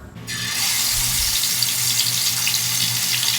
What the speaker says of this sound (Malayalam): പിന്നെ വലിയ ഒരു ഉരുളി വെച്ച് വെളിച്ചെണ്ണ ഒഴിച്ച് കൊടുക്കാം.